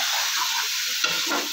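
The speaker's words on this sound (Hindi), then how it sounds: "हमने चिकन को घी में डाल दिया है और इसे अच्छी तरह ब्राउन होने तक" Chicken pieces browning in ghee over low heat in a karahi, giving a steady soft sizzle and hiss with a brief clatter of stirring near the end, close and continuous with no speech.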